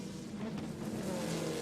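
Race cars at the 2002 Petit Le Mans, an American Le Mans Series round with prototypes threading through GT cars including Vipers, roar past in a brief, faint burst of engine noise.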